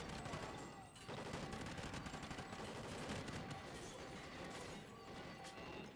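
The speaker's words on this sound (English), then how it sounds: "who the hell is shooting at me?" Gunfire in the Call of Duty Ghosts campaign, a dense, loud stretch of rapid shots and crashing battle noise running almost continuously through the whole clip.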